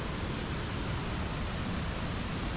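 The roar of the Agua Azul waterfall in Chiapas, Mexico, a dense, steady rushing wash of falling water, loud and unbroken with no voices.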